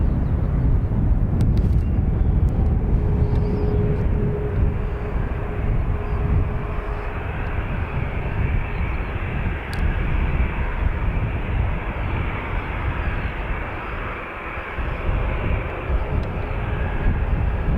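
A CASA C295 twin-turboprop landing at Dublin Airport, a steady loud engine roar and rumble that holds throughout, close by and alone with no voices.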